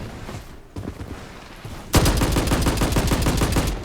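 UZI submachine gun fire in the shooter BloodStrike: a few scattered shots, then a loud, fast, steady automatic burst of closely spaced rounds lasting nearly two seconds, no voices.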